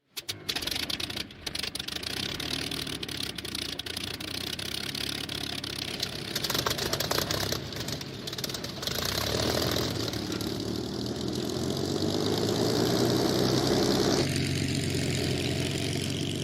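A Supermarine Spitfire's piston aero engine starts up with uneven bursts and coughs, then settles into a loud, steady idle that grows fuller toward the end, with no talking.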